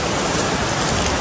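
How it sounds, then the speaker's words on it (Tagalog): Heavy rain pours down in a dense, loud, unbroken hiss of drops striking a surface, steady from start to finish with no voices. "sobrang lakas sa ulan"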